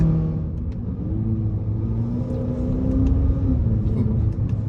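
A 2022 Acura ILX engine hums and revs with a steady low rumble and shifting tones, continuous and close, with no talking.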